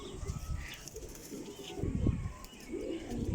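Pigeons coo softly in a loft, a soft low warbling that comes in repeated swells under steady background noise. A couple of faint wing flutters can be heard too.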